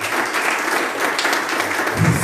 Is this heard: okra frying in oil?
no